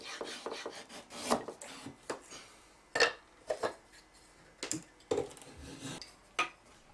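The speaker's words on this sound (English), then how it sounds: "rounds dried blocks of sawara cypress on the insides and outsides" Crescent-shaped blades shave the insides and outsides of dried sawara cypress blocks for a Kyoto woodcraft barrel, giving irregular close rasping strokes, some short and some longer and louder, with no talk.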